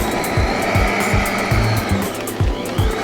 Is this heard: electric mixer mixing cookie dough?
yes